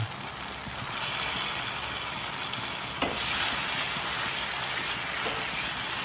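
Potatoes frying and stirring in a pan for a potato soybean curry, with salt and a splash of water added. A steady, close sizzle runs throughout, with a brief scrape of stirring near the middle.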